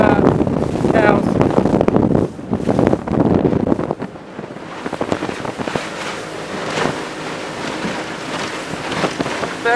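A 15 ft Fletcher Arrowflash motorboat with a 90 hp engine crosses the Solent, its steady engine drone mixed with rushing water and heavy wind buffeting the microphone throughout.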